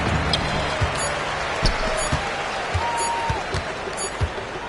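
Arena crowd noise from the NBA 2K25 basketball video game, a steady roar of spectators with repeated ball bounces and squeaks cutting through, loud and continuous throughout.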